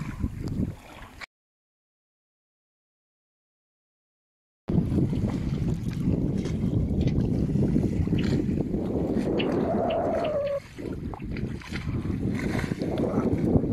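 A sailboat running under sail in the bay near Cap Lardier: steady wind and water rush against the hull, continuous and close, after a short silent gap.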